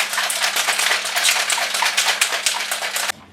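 Cocktail shaker holding vodka, lime juice and blackberries is shaken hard for about three seconds, a dense rattling of ice against metal, steady and loud, ending abruptly.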